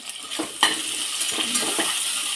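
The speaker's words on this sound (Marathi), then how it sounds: "परतून घेऊया चांगलं." Onion, tomato, potato and coriander sauté in a pan for Khandeshi khichdi. A steady sizzle is broken by repeated spoon scrapes and knocks as the mix is stirred, with no voices.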